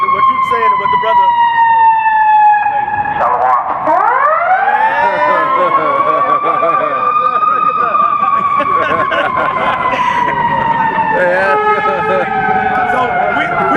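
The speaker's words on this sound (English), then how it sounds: "That was a good siren." A loud fire engine siren wails steadily nearby, its pitch slowly rising and falling for several seconds over faint crowd and street noise.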